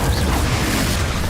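A Confringo fire spell explodes in Hogwarts Legacy as a dense, rumbling blast that stays loud and steady for about a second and a half, with no pause or decay.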